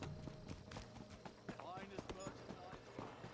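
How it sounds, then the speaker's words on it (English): Summoned horse's hooves clop in a quick rhythmic series in the Elder Scrolls Online video game, mid-loud under a busy game soundscape with some voice present. "I did not mean to summon my horse."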